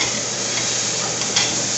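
Pork ribs frying in a pan after sausage and bacon, a steady close sizzle and hiss with faint ticks, no talk over it.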